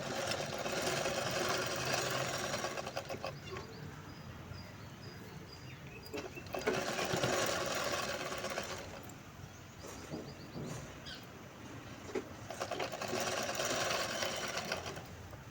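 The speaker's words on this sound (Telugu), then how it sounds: "పైకుట్టు అయితే వేస్తున్నా చూడండి" A sewing machine topstitches a boat neck blouse in several close bursts of rapid whirring stitching, each lasting a few seconds, separated by brief near-silent pauses.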